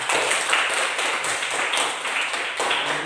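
A classroom of students claps together in sustained, dense applause, many hands slapping at once in a loud, even wash lasting a few seconds.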